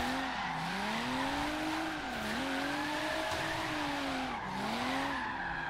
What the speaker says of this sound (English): Just drifting, yeah, a little bit till we get some racing going on here